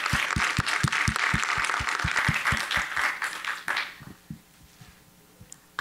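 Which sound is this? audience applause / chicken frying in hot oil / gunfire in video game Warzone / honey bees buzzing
audience applause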